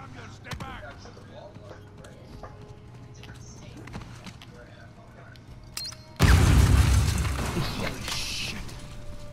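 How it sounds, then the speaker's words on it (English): A sudden loud explosion bursts out after a stretch of quiet game ambience and footsteps in Uncharted 4: A Thief's End, with rumbling debris trailing off; a voice talks faintly beforehand. "Explosions."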